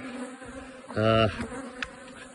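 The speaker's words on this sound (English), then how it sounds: "let the bees drift off and then blow the remainder out" Honeybees buzz around hives at a heather honey harvest site as supers are lifted off, a loud close buzz swelling for about a second over a fainter steady hum.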